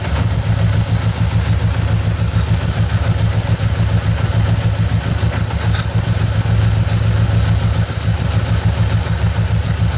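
A low, steady engine rumble from an idling 1.8T engine, continuous with a faint rhythmic clatter, close and even throughout.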